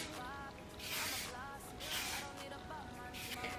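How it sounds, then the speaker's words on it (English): Hairspray misted onto freshly waved hair in a few short, soft hissing bursts, faint and close, with a low voice murmuring in the background. "I will do just a little bit of hairspray"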